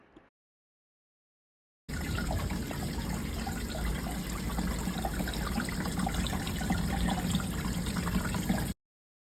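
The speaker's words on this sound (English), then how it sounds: "Now let's run our water through." Water runs steadily through a hydroponic farm stand growing dwarf cherry tomatoes, a continuous close rushing flow that starts abruptly and stops abruptly after about seven seconds.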